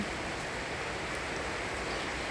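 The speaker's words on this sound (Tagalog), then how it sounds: "Ah, grabe ang ulan guys." Heavy rain falling in the Netherlands, a dense, steady hiss of downpour filling the whole moment, close and even with no breaks or voices.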